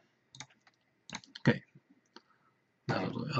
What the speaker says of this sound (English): Now I'll just hit delete key on the keyboard.